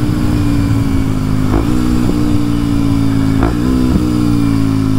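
Kawasaki KLX 230SM motorcycle fitted with an O2 delete exhaust idles steadily up close, with two short throttle blips spiking the revs before dropping back to a low, even idle.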